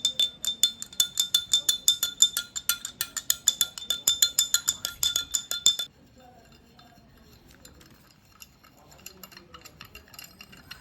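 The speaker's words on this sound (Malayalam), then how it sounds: "നമുക്ക് നല്ലോണം മിക്സ് ചെയ്ത് കൊടുക്കാം കേട്ടോ പഞ്ചസാര അങ്ങോട്ട് അലിയട്ടെ" A spoon stirs sugar into water in a glass for a homemade bubble-gun solution, making quick, rhythmic, close metallic clinks for about six seconds, followed by quieter scattered taps.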